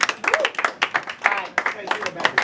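Crowd clapping at a Colorado rap battle between Tactics and Brayzack, a burst of scattered hand claps with shouting voices mixed in, close and lively, continuing unevenly for a couple of seconds.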